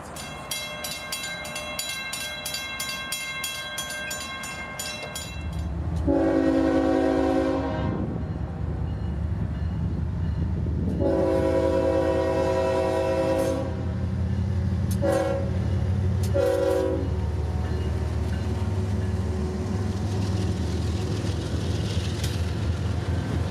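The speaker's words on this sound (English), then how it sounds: "This train would be heading into FEC's Bowden Yard for interchange on the FEC." An FEC freight train rolls past near Folkston, Georgia, with a steady heavy rumble of wagons throughout, while its horn sounds loudly in several blasts, one long sustained and a few shorter ones, close by, with no talking.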